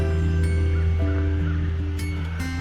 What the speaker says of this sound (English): I hear them crows having a fit.